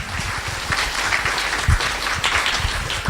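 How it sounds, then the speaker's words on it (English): A conference audience claps for company executives on stage at a cloud-computing event, a continuous, even round of applause with scattered distinct claps throughout. "So again, round of applause for our executives here."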